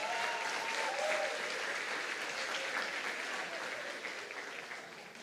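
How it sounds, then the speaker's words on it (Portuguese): A church congregation applauds at a Sunday evening service, a dense, steady wash of clapping that fills the hall and fades slightly toward the end, with faint voices beneath. "Aplauda ao Senhor"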